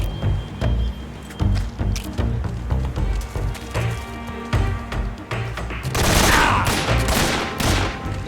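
Gunfire in Metal Gear Solid 3 Snake Eater, a fast series of loud sharp shots and thuds followed by a dense burst of heavier firing, with game music underneath.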